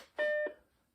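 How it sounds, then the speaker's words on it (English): Macintosh 128K alarm clock sounding a single short electronic beep, a clear steady two-tone chime lasting about a third of a second with a brief fading tail in an otherwise quiet room. "There, the alarm just went off. That's the alarm"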